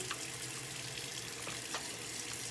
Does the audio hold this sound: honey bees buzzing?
no